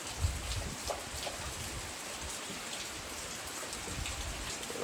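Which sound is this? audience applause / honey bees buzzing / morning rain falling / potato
morning rain falling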